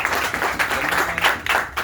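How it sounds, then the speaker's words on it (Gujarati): Crowd applause at a ward-level political gathering, steady clapping filling the short moment, moderately loud and continuous. "પ્રમુખ શ્રી વિક્રમજી રાજપુરોહિતને આપણે જોરદાર તાળીઓથી બોલાવીએ."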